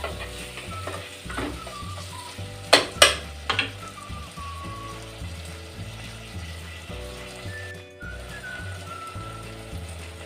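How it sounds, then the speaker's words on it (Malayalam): Onions softening in a pan for a special fish curry, a low sizzle under sharp metallic clicks and scrapes of a spoon against the pan, with a few louder clanks partway through and no talking. "ഞങ്ങളുടെ ഉള്ളി ഇവിടെ വാടി വന്നിട്ടുണ്ട്"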